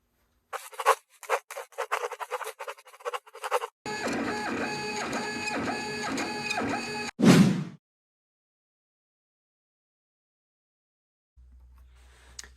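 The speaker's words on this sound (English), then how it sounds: "the printer in question today is a printer I recommended in my last video, the Creality CR10 Mini" A Creality CR10 Mini 3D printer runs close by: quick bursts of stepper-motor whirring and clicking, then a sustained buzzing, warbling motor drone ending in a short loud whoosh, then near silence.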